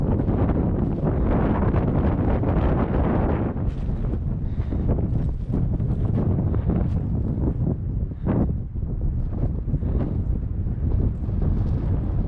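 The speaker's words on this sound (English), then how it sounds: "Just a little windy." Strong, steady wind roars across a snowy mountain trail in Colorado in March, loud and continuous microphone buffeting for the whole stretch with gusts, no talk heard.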